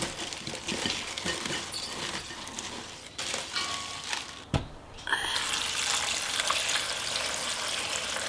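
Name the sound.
dongchimi broth being poured into a container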